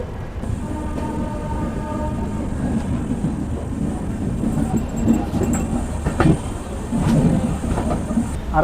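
Howrah Ranchi Superfast train running after leaving Howrah station on a rainy day, heard from inside a 2S coach: a steady low rumble with rhythmic wheel clatter and occasional sharper knocks.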